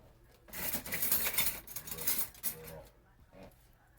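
Metal cutlery clinks and rattles in a kitchen as a spoon is grabbed from a drawer, a brief burst of close jangling that fades into quiet.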